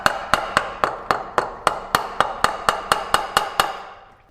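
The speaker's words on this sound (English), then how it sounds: "Maybe a polite tap with a hammer." Fourteen sharp metallic hammer taps on the intake of a Mazda 13B rotary engine land in a steady, quick rhythm, close by, each ringing briefly before the next.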